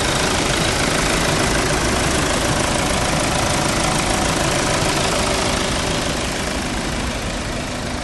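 A loud car engine idling close by, with a steady rumbling drone and rapid mechanical ticking throughout, no voices.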